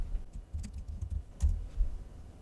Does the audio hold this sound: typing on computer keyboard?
yes